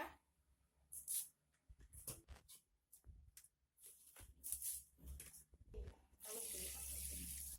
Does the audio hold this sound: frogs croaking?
no